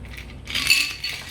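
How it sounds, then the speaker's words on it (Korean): A Sidecar cocktail is poured from a shaker with the cap opened into a chilled glass held by its base, a brief close trickle with light glassy clinks, about a second long. "캡을 열고 잔의 밑부분을 잡고 장갑 부딪히지 않게 따라줍니다"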